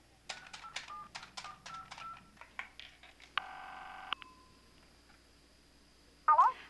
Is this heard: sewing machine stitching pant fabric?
no